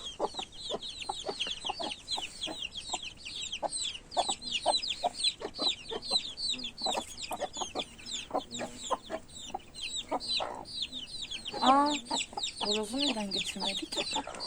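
Hens with young chicks keep up a dense, steady chorus of high peeping and soft clucking at close range, with a few louder cackles near the end and faint voices in the background.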